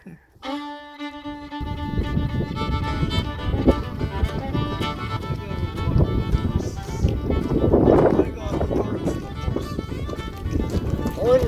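Steady clip-clopping of horse hooves at a brisk rhythm, close by, with wheels rolling and a background hum throughout; a brief voice near the start.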